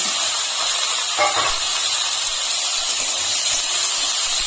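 Chopped carrots and beans go into a hot pan with onion and garlic for white sauce pasta, raising a steady close sizzling hiss with a short crackling burst early on, continuous and moderately loud.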